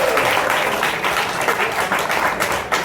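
Audience at a jazz night school concert applauds a musician, a dense steady wash of clapping that carries on without pause.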